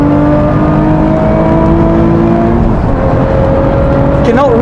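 A 2017 Lotus Evora GT430 sports car driven flat out on track, its engine note holding high then dropping as it shifts, loud and close from the cabin, with tire squeal near the end and someone talking over it.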